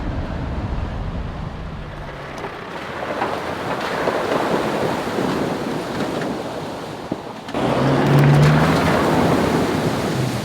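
Ocean waves break and wash on a New South Wales beach near Karuah, a continuous loud roar of surf mixed with wind buffeting the microphone, swelling louder toward the end.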